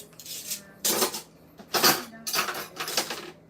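Plates and cutlery clatter during dishwashing, in several loud bursts of clinking with short pauses between them.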